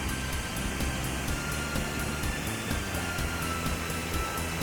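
Yongchu Waterfall at the end of the Mureung Valley trail near Dutasan, a steady broadband roar of falling water that holds constant and fills the scene throughout, with no voices.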